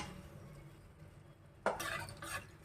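A spoon stirs tamarind broth with nalleru vadiyalu in a pot. After a quiet stretch, a few faint, short scraping and sloshing strokes sound near the end, with no talking.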